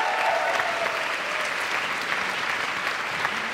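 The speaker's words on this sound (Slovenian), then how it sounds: "z bučnim aplavzom jih pospremimo na oder" A concert audience at a music event gives loud, continuous applause as mentors are welcomed to the stage, with dense steady clapping throughout.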